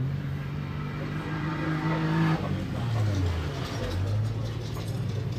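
An Ultra4 off-road race car at the 2024 Wild West 100 in Columbus, Montana, its engine droning and shifting pitch as it passes, with mechanical whine and steady outdoor background noise.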